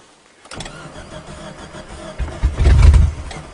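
A 1994 Geo Tracker is cold-started: after a quiet moment the starter cranks from about half a second, then the engine catches and roars louder near the end, close and alone.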